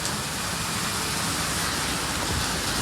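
Heavy rain pours steadily as a dense, even hiss with no pauses, close by and fairly quiet overall.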